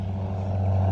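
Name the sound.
airplane flying over near an airport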